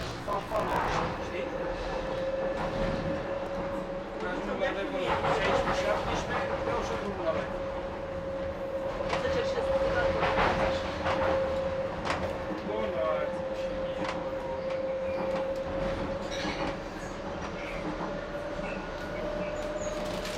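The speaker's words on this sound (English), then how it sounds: "One thing you'll notice as you ride along the DLR is just how much the trains lurch and sway about." Docklands Light Railway train running along its track, heard from up front as a steady loud rumble with a sustained whine and occasional rattles throughout, with no talk.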